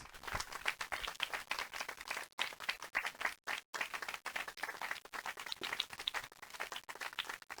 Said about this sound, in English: Another big applause for the athlete.